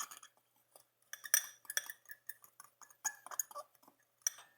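A spoon clinks and scrapes in a small bowl while salt, pepper and garlic powder are stirred together for steak seasoning, producing a quick irregular series of faint, light metallic ticks and taps.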